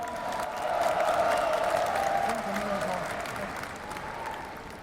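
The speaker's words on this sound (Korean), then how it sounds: "뜨거운 박수 부탁드리겠습니다." Sustained audience applause at a political rally where a presidential candidate has just presented farm and rural policy, a steady dense clatter of many hands for about five seconds with some voices mixed in.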